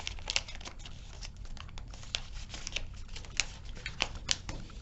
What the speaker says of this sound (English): we can fold the whole thing in half